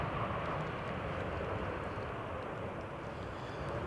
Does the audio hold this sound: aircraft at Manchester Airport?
yes